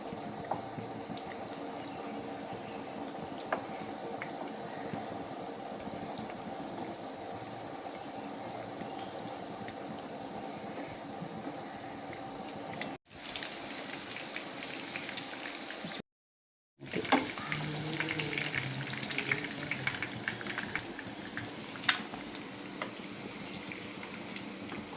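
Beef brain fingers fry in hot oil until golden brown, giving a quiet, steady sizzle and bubbling throughout, briefly cut off partway through before resuming.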